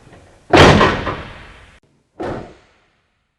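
A car door fitted with new clinch seal weatherstripping shuts with a solid, loud thud that decays over about a second. A second, shorter and softer closing thump follows, and a third begins at the very end.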